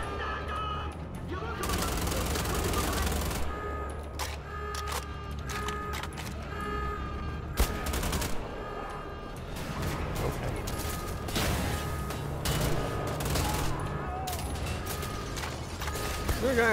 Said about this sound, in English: Am I getting shot by the big guy through there?